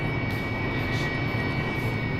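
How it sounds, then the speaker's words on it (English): An AV-8B Harrier jet engine running in the DCS flight simulator game, a loud, steady, unbroken roar with a high whine on top, heard alone without talk. "so the jet's all up and running again."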